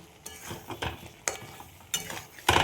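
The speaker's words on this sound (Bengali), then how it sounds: "এখন নাড়িয়ে যেতে হবে, কেননা কাজু আর মগজ দেওয়া রয়েছে" A spoon stirs and scrapes a katla kalia gravy thick with cashew paste and fish brain in a wok, giving about six distinct scraping strokes over a soft sizzle, with no talking.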